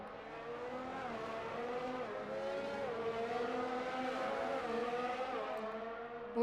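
Formula-style race cars in a PS4 racing game on a British circuit drone past with a steady, high, rising and falling engine whine, a continuous close buzz of pitch sweeps without pause.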